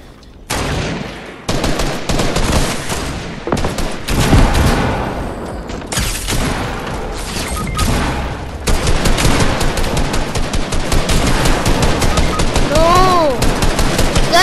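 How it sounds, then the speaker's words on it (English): Dense, rapid automatic assault rifle fire from a squad-based shooter game, loud bursts rattling almost continuously with heavy booms mixed in, the firing intensifying toward the end. "Are you spamming assault rifle so much?"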